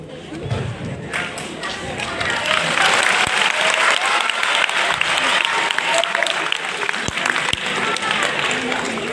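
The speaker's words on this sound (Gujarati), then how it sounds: "જોરદાર તાળીઓ." An audience at a road safety awareness program breaks into sustained applause, a dense wash of many hands clapping that swells after the first couple of seconds and holds steady, with scattered thumps.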